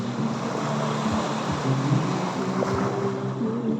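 Sea waves wash steadily along a beach where someone is swimming, a continuous loud, close roar of surf with wind buffeting the microphone and no clear talk.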